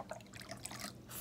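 Water trickles softly into a measuring cup, a faint, steady pouring splash with a light gurgle, heard alone and close.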